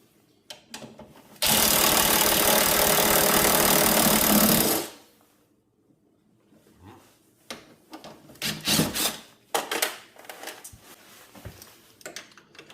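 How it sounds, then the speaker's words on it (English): A loud, continuous burst of an impact wrench removing a bolt from a Yamaha Pro Action rear skid lasts about three seconds, then stops; softer clanks and handling noises follow. "I'm going to just use my impact because it's going to make this go a lot faster"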